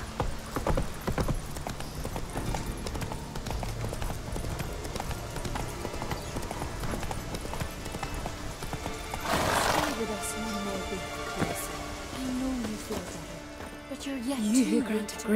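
Roach, a horse in The Witcher 3, gallops with rapid rhythmic hoofbeats over game music and ambience, a louder burst of noise near the middle, with a voice briefly speaking.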